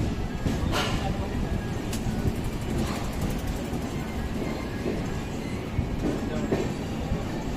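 A passenger train, 12219 LTT–Secunderabad Duronto, rolls steadily along the tracks, jerking somewhat, a loud continuous rumble with faint rhythmic clacking and occasional metallic squeals, heard from inside or close by.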